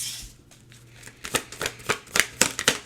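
Tarot cards being shuffled and pulled from the deck, heard as a quick run of crisp, close riffling flicks and soft slaps that grows busier and more rhythmic toward the end.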